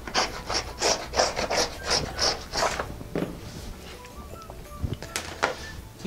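A rotary cutter slices through denim from cut-up jeans along a ruler on a cutting mat, a run of close, rough rasping strokes in quick rhythm that thin out into quieter scraping and handling noises.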